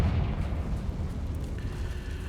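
A Confringo fire-blast spell explodes in Hogwarts Legacy, giving a short rumbling burst of low boom and crackle that fades over a couple of seconds.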